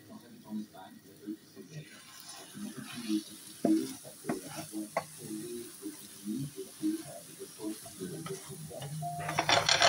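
A country-style omelette of four eggs beaten with a little milk and finely chopped garlic cooks in a pan, giving a steady low sizzle with frequent light clicks and scrapes of a utensil, rising slightly toward the end.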